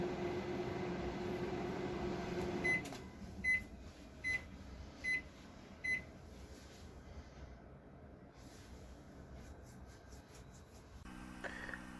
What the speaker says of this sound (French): mettre son téléphone à côté du micro-ondes et en filmant